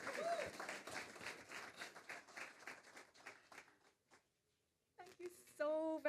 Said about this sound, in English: Please give a warm welcome and round of applause to Senator the Honorable Kamina Johnson-Smith